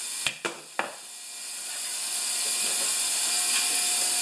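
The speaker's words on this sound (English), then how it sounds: "then I take them just another skosh with this big half-inch ratchet" A big half-inch ratchet tightens bolts on a new lawn mower, giving three quick, sharp clicks up close, followed by a steady background hum.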